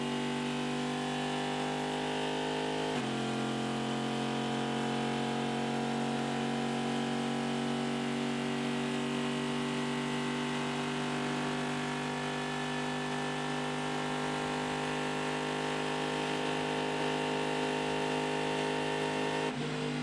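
A Corvette race car engine runs steadily at high revs for the whole stretch during the Rolex 24 at Daytona, a loud onboard drone whose pitch shifts once early, with no voices.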